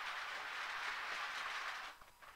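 A GWR model railway locomotive pulls a long rake of GWR coaches, ending with a B-set coach, on a layout, giving a steady close rolling rumble and clatter that drops away near the end.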